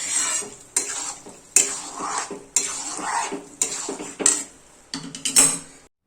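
A spoon stirs boiled peas into potato and pointed gourd frying in spices, with rhythmic metal scrapes and clanks against the pan. Roughly seven strokes repeat under a light sizzle, close and clear with no talking.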